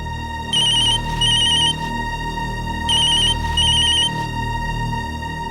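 An electronic telephone ringtone chirps in two pairs of short bursts, loud and close, over a steady low background hum.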